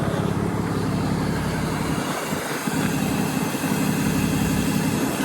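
A broken BMW 535D Touring diesel engine, suspected of dumping oil into the exhaust, runs with a loud, steady, rumbling drone close by. No revving stands out and no one speaks.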